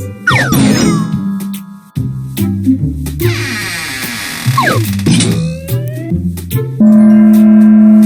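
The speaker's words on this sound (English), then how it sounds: "Can you hit the bell with the large hammer?" A hammer strength tester in a Cat in the Hat arcade video game rings out with bright chiming dings and sparkly jingles over upbeat game music and sound effects.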